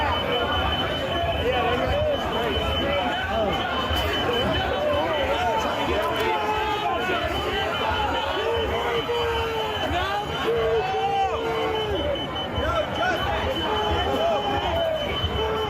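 A dense crowd at the January 6th Capitol protest fills the air with continuous shouting and babble, voices rising and overlapping, with piercing alarm-like whistles or tones cutting through.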